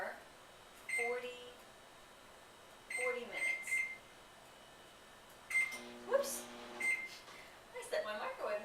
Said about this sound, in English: I set my microwave, not my timer.